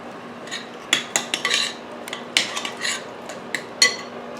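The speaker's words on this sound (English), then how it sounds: "Stir that up." Cabbage roll ingredients stirred in a crockpot: scattered clinks and scrapes of a utensil against the ceramic pot, irregular strokes with soft mushy rustles between them, close and alone.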